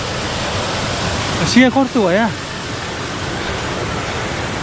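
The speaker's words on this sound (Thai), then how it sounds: "นี่เราเข้าใกล้น้ำตกมากที่สุดแล้วครับโอ้มันไหลมาจากข้างบนน่ะแล้วมาตรงเนี้ย" The Siriphum waterfall on Doi Inthanon, Thailand, seen from a mountain trail, gives a constant close roar of rushing water throughout, while someone briefly speaks over it partway through.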